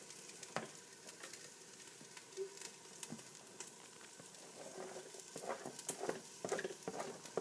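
Finely minced garlic sizzling with caramelizing onions in a pan, a faint, steady crackling fry with scattered sharp pops and occasional soft stirring scrapes, heard alone.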